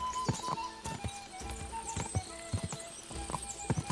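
Horse hooves galloping in the medieval open-world game Kingdom Come: Deliverance II, a steady run of loud, close clip-clop beats with faint background game ambience.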